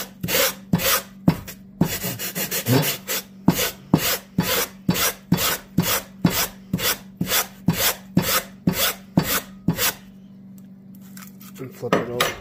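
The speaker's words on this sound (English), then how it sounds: "I'm just going to go through and rasp off the high edge." A rasp scraping the high edge of a scratch-built foam bridge abutment, steady back-and-forth strokes in a brisk even rhythm, loud and close, pausing briefly near the end.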